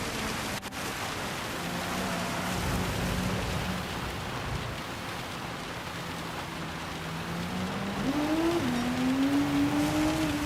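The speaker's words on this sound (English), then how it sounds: "the rain is super loud" Constant heavy rain pours down in Gran Turismo 7 at Spa with a racing engine humming beneath, its tone climbing toward the end as it accelerates.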